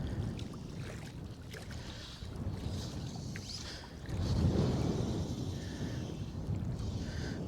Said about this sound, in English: I was able to hear the wee burn behind me